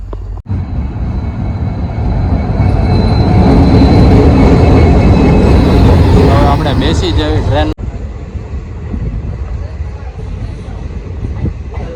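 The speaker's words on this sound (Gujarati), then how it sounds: "જો ટ્રેન આવી ગઈ છે" A train pulls into a railway station at sunset, a loud rolling rumble with squealing brakes building and holding for several seconds before cutting off, leaving quieter station ambience with people talking.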